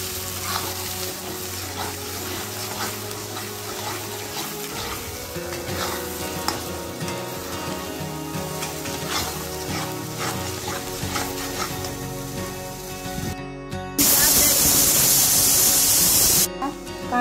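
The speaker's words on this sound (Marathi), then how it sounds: "वाटण छान परतून घ्यायचं" Ground masala paste for Maharashtrian katachi amti sizzles and fries in hot oil with curry leaves in a pan. The close, steady crackle continues throughout with stirring, and a sudden loud hiss comes near the end.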